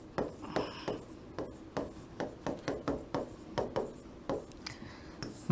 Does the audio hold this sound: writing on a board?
yes